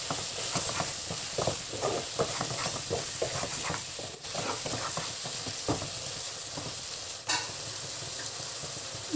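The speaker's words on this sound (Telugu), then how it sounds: "చూడండి, ఇప్పుడు బాగా మిక్స్ చేస్తాను." Chicken is tossed with chilli powder, garam masala, turmeric and salt in a hot pan, giving a steady sizzle broken by repeated scraping, clacking spoon strokes, close and fairly quiet.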